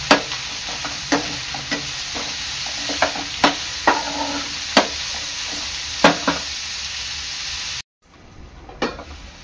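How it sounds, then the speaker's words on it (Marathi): Chopped onion fries in a pan with a steady, close sizzle, broken by repeated sharp scrapes and clicks of stirring, then a sudden cut and quieter sizzling. "तर कांदा आहे ना चांगला लाल होईपर्यंत शिजवून घ्यायचा आहे।"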